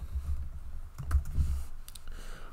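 A few soft key clicks on a computer keyboard while a formula is typed, faint and scattered over a low background hum.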